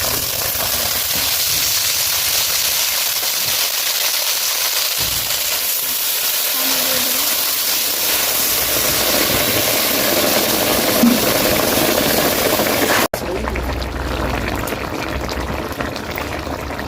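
Eggplant pieces hit hot oil for a Bengali katla fish kalia, setting off a steady, loud, broadband sizzle that runs continuously before shifting abruptly near the end.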